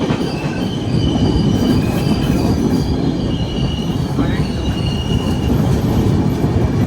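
A Grand Trunk Express passenger train approaching Gudur junction gives a steady, loud rumble of wagons and wheels on rail, with faint high wheel squeals drifting over the continuous roar.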